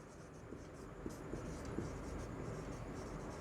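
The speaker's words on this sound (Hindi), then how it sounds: "तो मैं यहां पर लिख देता हूं" Chalk or marker scratches across a classroom board in short, quick strokes, faint and close with light tapping accents amid a quiet room.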